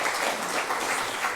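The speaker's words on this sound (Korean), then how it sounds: "우리 목사님 감사의 박수 한번 드리겠습니다." A congregation claps in thanks for a pastor at a Korean presbytery's 90th-anniversary seminar, a dense, steady round of applause filling the whole moment with no voices over it.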